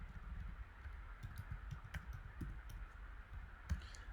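A login is typed on a computer keyboard during Windows Server 2019 administration, heard as faint, quick, irregular key clicks over a low background hum.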